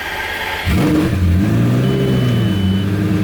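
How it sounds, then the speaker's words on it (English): A Lamborghini engine cranks and catches, then idles loudly and steadily at a raised cold-start rev, close by. "we need to turn on the car. Also, cold start."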